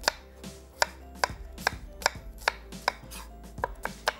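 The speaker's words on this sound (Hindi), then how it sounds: "2 अदद दरमियानी प्याज, और इसको बारीक स्लाइस करके इस घी में हमने फ्राई कर लेना है।" Two medium onions are sliced finely with a knife on a board, giving evenly spaced sharp chops, about two per second, close and clear with no voices.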